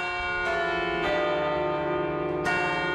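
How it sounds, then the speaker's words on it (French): The bells of Notre-Dame ring with a rich, sustained tone, new strikes landing every second or so over a lingering resonant hum. "Tout près des cloches de Notre-Dame"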